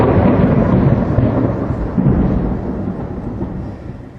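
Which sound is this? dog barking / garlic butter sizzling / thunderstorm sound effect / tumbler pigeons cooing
thunderstorm sound effect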